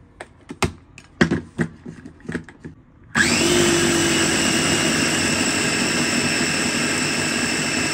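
An electric hand mixer beats cake batter with eggs and oil, all mixed in at once. A few light clinks and taps come first, then a loud, steady whir starts at about three seconds and runs on without a break.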